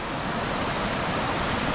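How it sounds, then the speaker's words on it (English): Steady broadband rush of a small mountain creek at a hiking-trail crossing in Southern Oregon, a continuous close wash of flowing water with no voices. "We do have a little creek crossing here."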